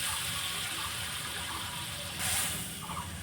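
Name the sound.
pouring water into fish and eggplant curry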